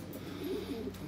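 An 11-year-old racing pigeon gives a soft, low coo close by, a single brief murmuring call over quiet background.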